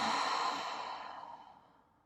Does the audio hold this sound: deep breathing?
yes